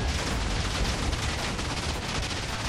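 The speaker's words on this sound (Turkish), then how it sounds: "Hala patlama devam ediyor abi" Rapid chain of TNT blasts in a blocky sandbox game, a dense continuous roar of overlapping explosions with no gaps, loud and close throughout.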